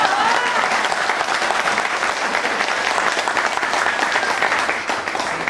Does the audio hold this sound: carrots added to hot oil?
no